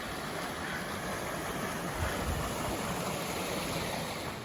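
Water in a river running through a gorge at Akchour, Morocco, gives a constant broad rushing roar, near and unbroken, with no voices.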